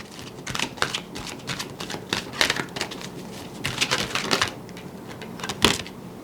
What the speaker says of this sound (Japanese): 最後にもう一枚ね、オラクルカード引かせてください。